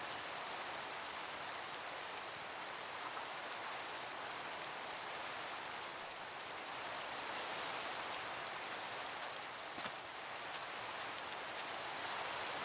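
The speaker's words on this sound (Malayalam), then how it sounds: "നല്ല മഴയാണ്." Rain in the video game Minecraft pours down as a steady, even hiss, constant and moderately loud throughout with no other sounds.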